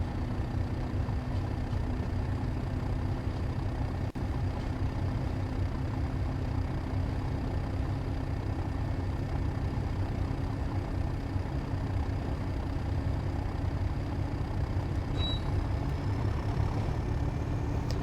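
Train engine accelerating in Train Sim World 3 on the Tees Valley Line near Tees Yard, a steady, dense low rumble and drone that holds constant without any talk, a faint tonal hum riding on top.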